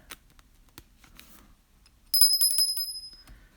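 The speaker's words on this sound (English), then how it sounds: "Ring the bell for Johnson." A small bell rings in a quick, bright trill of rapid strikes, close and fairly loud, following a few faint clicks and rustles in an otherwise quiet room.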